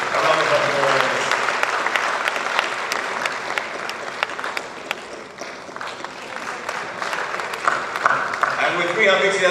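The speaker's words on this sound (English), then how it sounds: "Ladies and gentlemen, a round of applause." An audience at a Ghana diaspora homecoming summit gives the country's President a long round of applause, sustained clapping that swells and eases over several seconds, with a voice over the opening moment.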